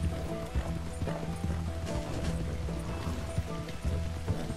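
Steady clip-clop of horse hooves from Red Dead Redemption 2, trotting at a close, even pace beneath game music and ambient background sound.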